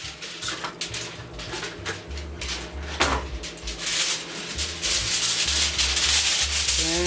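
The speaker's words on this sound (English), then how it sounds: "now we're going to take some aluminum foil." Aluminum foil is handled in a kitchen while a spaghetti-stuffed meatloaf is prepared, giving close crinkling and rubbing sounds in bursts with a sharp crackle partway through.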